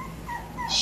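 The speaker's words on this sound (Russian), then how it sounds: "Щенок." A puppy whimpers softly in a short children's cartoon moment, with a few faint, high, wavering whines rising slightly toward the end, alone with no talk.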